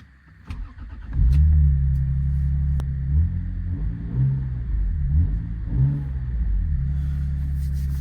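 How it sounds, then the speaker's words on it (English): A GS300 car with a turbocharged VVTi engine and new exhaust starts up and idles with a deep, throaty rumble, blipping into a few revs before settling back, close and loud. "first impressions with the new exhaust. It sounds really good."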